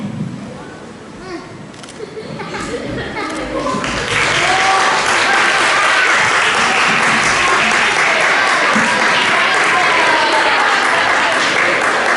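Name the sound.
audience applause at school celebration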